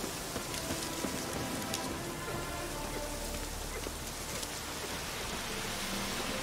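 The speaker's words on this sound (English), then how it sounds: "Looks like rain." Rain falling in The Witcher 3: Wild Hunt, a steady hiss of raindrops on surfaces under faint game ambience, continuous and even, with no speech.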